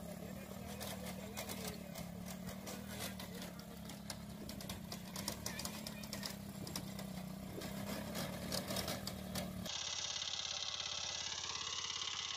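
A homemade mini tiller built from an old motorcycle runs with a steady, close engine drone and a low buzzing hum, changing to a harsher, brighter note near the end.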